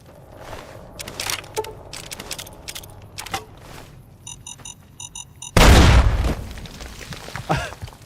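A landmine goes off in Fallout New Vegas with a sudden loud, close boom that rolls off into a rumbling tail, after a stretch of faint clinking and a rapid electronic beeping warning.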